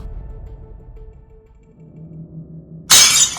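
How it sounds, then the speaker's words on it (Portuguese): Glass cracking and shattering as an audio drama effect: a single sudden, loud, bright crash near the end that breaks a quiet low hum. "Minha cabeça bateu violentamente contra o vidro e fez rachar como uma teia de aranha"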